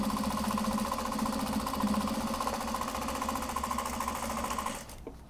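A sewing machine runs steadily through twill fabric, a fast, even mechanical whir with a rhythmic stitching pulse, close and loud, stopping abruptly near the end.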